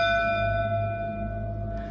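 Old prison bell at a historic gaol, ringing with a steady sustained tone whose harmonics hum and slowly decay, fairly loud and alone without speech.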